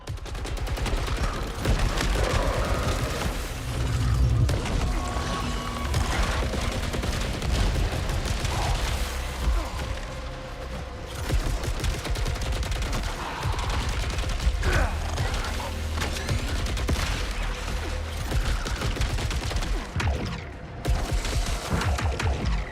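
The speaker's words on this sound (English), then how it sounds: "I'm over here thinking I'm shooting my power weapon. I'm shooting another weapon." Loud, dense gunfire from a video game weapon runs almost nonstop, with overlapping rapid shots and booming blasts close up and only brief gaps.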